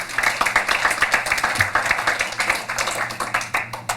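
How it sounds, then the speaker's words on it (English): Round of applause from a conference audience at a tech event, steady rhythmic clapping from many hands filling the room. "a big round of applause for everyone."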